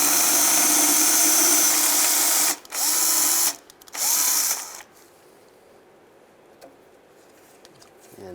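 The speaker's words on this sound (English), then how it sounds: "Just take a drill, just drill them out." A power drill drills out the rivets on the timing cover of a 2007-2013 Chevy Silverado, whirring loudly for about two and a half seconds, then in two more short bursts with brief pauses, before quieter workshop handling noises.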